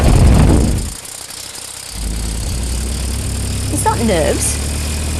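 A light aircraft engine roars, briefly drops away, then settles into a steady, loud running drone with faint rattles, while a person speaks over it.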